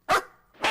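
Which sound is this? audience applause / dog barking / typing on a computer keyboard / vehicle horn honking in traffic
dog barking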